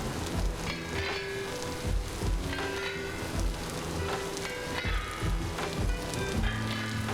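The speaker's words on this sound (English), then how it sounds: "you can hear the rain" Rain from a thunderstorm with wind picking up, a loud continuous patter and spatter on surfaces, alone with no voices.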